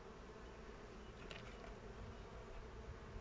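A steady, dense buzzing of many honey bees close by at an opened hive, continuous throughout with no voices.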